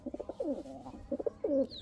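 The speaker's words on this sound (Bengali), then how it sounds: "রামপুরি নর স্ট্যান্ডিং দেখেন, কবুতরটা স্ট্যান্ডিং দেখেন" Rampuri pigeon, a standing male, cooing close by in a short run of soft, throaty rolling coos with brief pauses, clear and without any talk.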